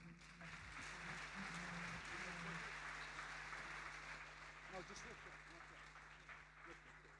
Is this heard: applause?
yes